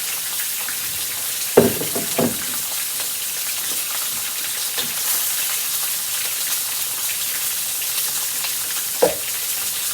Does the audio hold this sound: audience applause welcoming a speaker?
no